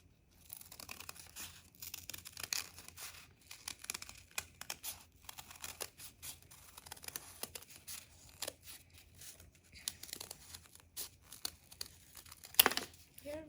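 Scissors snipping through paper to cut out heart shapes for a handmade thank-you card, a quiet run of small crisp cuts and paper rustles with irregular rhythm, close and soft, no talking.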